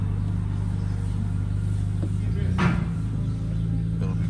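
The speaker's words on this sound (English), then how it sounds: "It's gonna be quiet until I step on it" A car with a modified exhaust idles quietly nearby, a smooth low rumble that dips briefly as its note shifts, with a short clatter midway and faint voices underneath.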